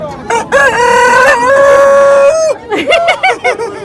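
A voice imitates a rooster crowing, one long drawn-out call followed by a few shorter, choppy crowing sounds, loud and close.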